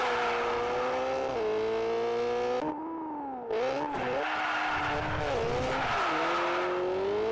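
Super 2000 rally car on a tarmac special stage at Rajd Barbórka's Karowa street criterion in Warsaw, engine howling loud and close through gear changes, a brief lift-off, then hard acceleration again.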